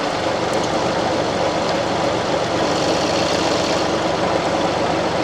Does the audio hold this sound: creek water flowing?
no